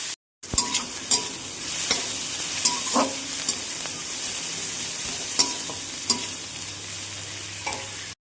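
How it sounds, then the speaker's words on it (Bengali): A spatula stirs and scrapes through onions frying in a pan for egg chowmein, with a steady sizzle underneath and sharp clinks of metal at irregular intervals. "পেঁয়াজ ভাজা হয়ে গেছে"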